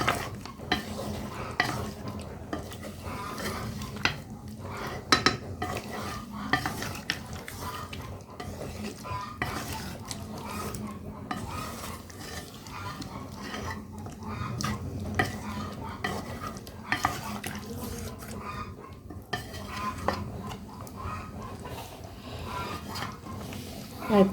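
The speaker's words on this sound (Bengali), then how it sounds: "ভালো ভালো করে নেড়ে দিব।" Beef curry stirred in a pan with a spoon, steady scraping and clinking strokes over a continuous sizzle of frying, close and fairly loud throughout with no talking.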